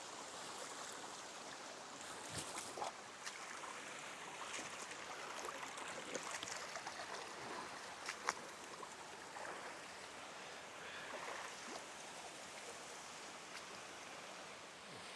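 Water of the Claddau River flows in a steady, even rush that stays moderately soft and unbroken throughout, with a few faint knocks and rustles nearby.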